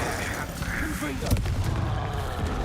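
A Confringo blast spell fires in the Hogwarts Legacy video game as a loud, dense roaring burst with a heavy boom partway through, sustained and close throughout.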